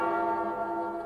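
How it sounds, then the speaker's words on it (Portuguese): A church bell rung by the sacristan during a novena service, a steady sustained ringing tone with rich overtones lasting about a second, fairly faint and alone. "Toca o sino, sacristão."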